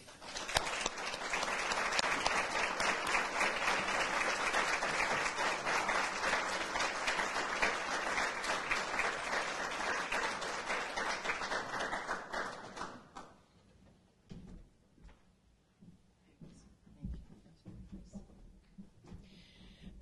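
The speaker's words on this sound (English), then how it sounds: "So I hope you'll give a large round of applause to Hall of Famer Jim Harris." Banquet audience at a conference Hall of Fame dinner applauds an inductee: loud, dense clapping sustained for about thirteen seconds, then fading to a few scattered claps and faint room noise.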